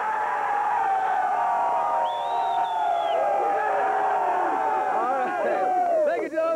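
A crowd of Denver Broncos fans cheers and yells together in a sustained, loud roar, with a brief whistle-like tone partway through and many voices blending throughout.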